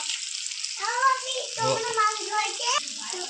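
Goat meat trimmings frying in a home kitchen pan, a continuous soft sizzle and hiss under a voice and other speech.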